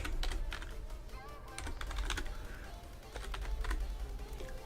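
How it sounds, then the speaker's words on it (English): Rapid, irregular clicking of keys on a computer keyboard runs throughout, fairly close and steady, with short pauses and a soft background hum, during a live stream building props with scripts in Jamango. "Typing"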